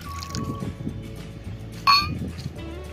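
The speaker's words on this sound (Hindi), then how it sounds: "यहाँ पर डालेंगे पानी" Water poured into a cup for dalgona whipped coffee in a home kitchen, a soft trickling splash with a sharp clink of a utensil against the container partway through.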